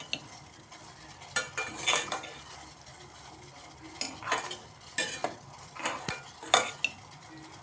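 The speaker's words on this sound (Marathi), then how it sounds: "त्याच्यानंतर पुन्हा आपल्या चहाला ढवळून घेणार आहे आपण" A spoon stirs jaggery tea in a pot, giving intermittent clinks and scrapes against the metal in irregular bursts, with a quiet simmer underneath and no talking.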